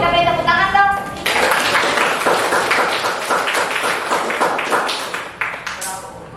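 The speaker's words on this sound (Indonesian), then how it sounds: "kelompok putri kita beri tepuk tangan dong" A classroom of students claps for a group of girls heading to the front, a busy, uneven patter of close hand claps following a brief spoken moment at the start.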